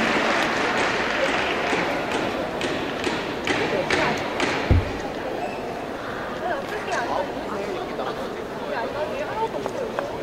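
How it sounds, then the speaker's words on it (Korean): An audience applauds to welcome a speaker at a 2008 Korean culture and entertainment awards ceremony. The clapping is steady and fills the hall, with a few sharper thumps and voices underneath. "큰 박수로 맞아주십시오"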